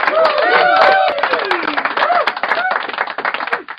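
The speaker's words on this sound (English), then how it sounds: "let's get a round of applause" A round of applause in a podcast studio, quick sharp claps rattling steadily throughout while voices talk and whoop over them at close range.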